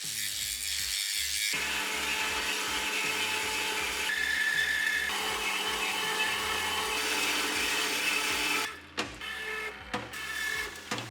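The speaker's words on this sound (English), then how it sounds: "I can rip off the scale with an angle grinder" An angle grinder strips scale from a forge-welded steel billet, a loud continuous high whine with shifting pitch as the disc bites, ending in a few brief bursts close by.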